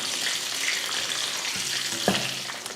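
Eggs and potatoes fry together in a pan, giving a steady close sizzle throughout with a brief stirring clatter near the end.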